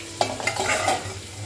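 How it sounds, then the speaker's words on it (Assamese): Fish and a mix of cabbage and cauliflower vegetables fry in woks, giving a close, steady sizzle with a few sharp scraping stirs near the start and no voices. "এটা কেৰাহীত মাছ ভাজি আছোঁ আৰু এটা কেৰাহীত বন্ধাকবি ফুলকবি চব মিলাই মিক্স চব্জি এটা ভাজি আছোঁ"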